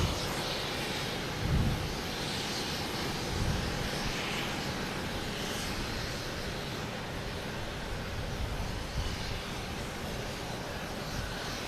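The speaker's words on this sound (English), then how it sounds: "we have Delta coming from Amsterdam in A330-300" A Delta Airbus A330-300 arriving from Amsterdam at Boston Logan Airport, a broad, steady jet roar that holds at moderate loudness for the whole stretch, with a few faint bumps and no talking.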